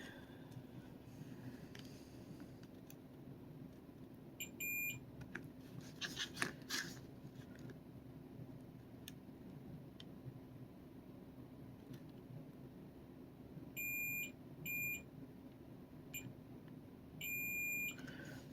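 A multimeter beeps during a continuity check on the pins of a water-damaged Game Boy Advance SP, several short, thin tones in separate clusters over a quiet background hum, with no voices.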